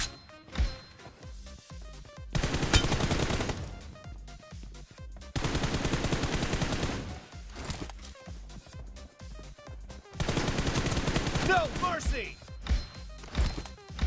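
Automatic weapon fire in the mobile game PUBG Mobile, three loud sustained bursts of rapid shots separated by short gaps filled with single pops and clicks.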